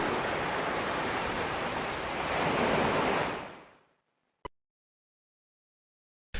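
Ocean waves surge and wash steadily at sea for about four seconds, a broad roaring wash that fades out into silence, followed by two brief faint clicks.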